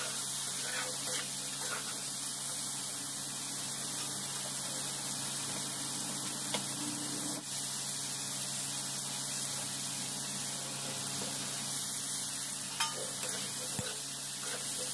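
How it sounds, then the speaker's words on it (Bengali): Cumin, coriander and dried chili powder spice mix frying in a pan, giving a steady hissing sizzle throughout with a few faint stirring scrapes, close and alone without voices. "জিরা ধনা আর এখন শুকনো লঙ্কার পাউডার। এটাকে এখন একটু ভেজে নেব।"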